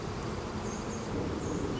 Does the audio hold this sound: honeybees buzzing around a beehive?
yes